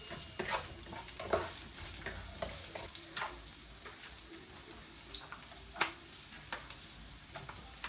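Onions frying in a pan, with faint sizzling under intermittent clinks and scrapes of a utensil stirring, close but quiet, with scattered short taps.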